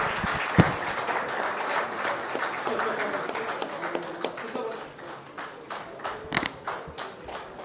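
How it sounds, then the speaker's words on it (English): An audience at a business partnership summit in Delhi claps in steady applause that gradually thins and turns scattered toward the end. "please join me in thanking our two leaders with your warm applause"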